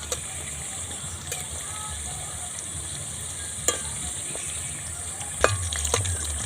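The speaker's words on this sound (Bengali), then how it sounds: "আস্তে উল্টে পাল্টে ভেজে নেবো দেখুন এগুলো এখন একটু কাঁচা আছে অল্প ভেজে নিতে হবে" Labanga latika, a Bengali sweet pastry, frying in hot oil gives a steady sizzling hiss with occasional sharp pops and clinks as the pieces are turned, continuous and close.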